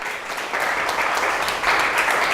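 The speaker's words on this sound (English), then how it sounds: "Everyone give Wayne a round of applause." Audience at an entrepreneurs' event applauding as a man comes up to give an elevator pitch, a dense wash of clapping that swells partway through and stays loud to the end.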